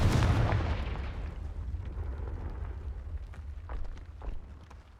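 A Confringo fire spell blasts in the Hogwarts Legacy video game, opening with a heavy booming explosion that decays into a low rumble, followed by faint crackles and small pops.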